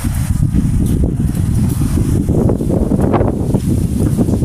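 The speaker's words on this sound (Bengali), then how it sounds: "এত ঝোড়ো বাতাস, ঝড়ে এই যে আমার সব গাছ পড়ে গেছে" Strong stormy wind during a rainstorm in a rooftop garden, a loud, continuous buffeting roar pressing on the microphone for the whole stretch, no speech.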